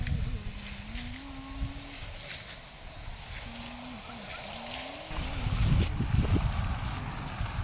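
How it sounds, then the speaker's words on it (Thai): Wind blows over floodwater in a rural village, a low rumbling buffet on the microphone that gusts harder toward the end, with a faint tonal hum running underneath. "นี่ลมพัดมาแล้ว"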